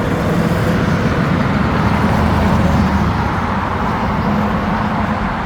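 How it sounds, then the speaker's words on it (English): Busy road intersection traffic heard from a bicycle on a rainy ride, a steady loud wash of car, bus and truck engine rumble with tyre hiss on wet pavement, continuous throughout with no clear talk. "This is a really busy intersection."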